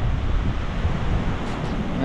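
Big ocean waves rolling onto the shore in rainy weather, a loud continuous roar and wash mixed with heavy wind rumble against the microphone.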